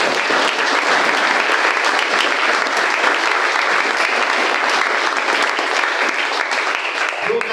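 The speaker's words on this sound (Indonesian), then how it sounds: "Tepuk tangan buatkan ini." A congregation at an Easter mass applauds steadily, a thick, even wash of clapping that holds at full strength for about seven seconds.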